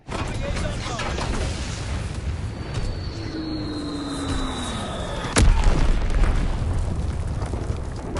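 An Azon bomb detonates in a video game, a sharp loud boom with a long rumbling tail over continuous background noise, following a descending whistling tone and a voice talking.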